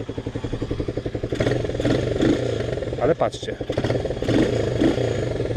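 A Romet K 125 motorcycle with a simple carburetor lacking an accelerator pump idles with a rhythmic putter, then revs in quick sharp throttle blips, close and loud, while someone talks over it.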